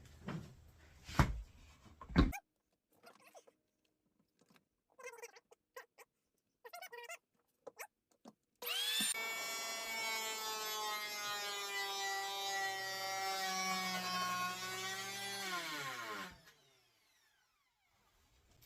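A corded Woodstarter hand planer is switched on and cuts wood in one loud, steady, whining burst lasting several seconds that winds down at the end, after scattered knocks and handling clicks.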